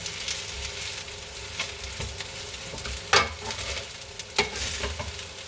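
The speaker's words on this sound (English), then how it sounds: "when I'm frying my meat here on my rice" Oxtail meat frying with rice in a pan, a steady close sizzle broken by scraping stirs and a few sharp spatula clacks against the pan.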